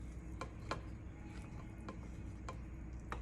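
A spoon stirring cake batter in a bowl, with soft scraping and a series of irregular clinks against the bowl, close and fairly quiet.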